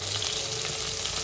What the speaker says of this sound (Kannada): ಸೊ ಇವಾಗ ಈರುಳ್ಳಿ ಹಾಕ್ತಾ ಇದೀವಿ ಸ್ವಲ್ಪ